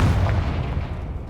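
A booming blast from the Confringo spell in Hogwarts Legacy hits loud at the start, then rumbles and fades over about a second.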